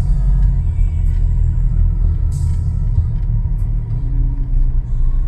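A garbage truck rolls into a sanitary landfill with a loud, steady, close diesel rumble that holds for the whole stretch, with no voices over it.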